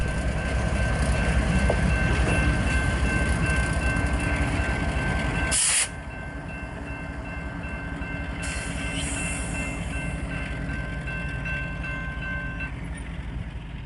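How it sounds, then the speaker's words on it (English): A westbound BNSF freight train on the Cajon Subdivision at Lugo rumbles and clatters nearby, then a sharp burst of air hiss cuts in as it eases to a stop and the rolling noise settles lower and quieter. "the engineer of BNSF 7716 West eases his train to a stop"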